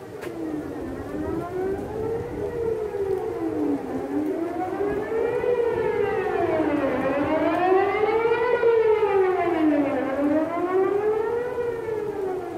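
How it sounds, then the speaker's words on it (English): Loud rising-and-falling tornado sirens wail continuously, several tones overlapping in a slow sweeping pattern, with no voices. "tornado sirens, as I said."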